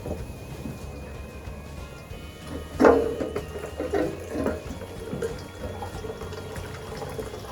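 Leftover water drains from valves into a tub, a steady low trickle and splash with a brief louder gush partway through, close by, with no talking.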